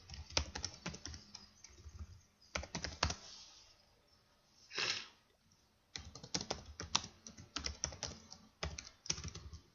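Typing on a computer keyboard in quick irregular bursts of close clicks, with pauses between runs and a short swelling noise in the middle.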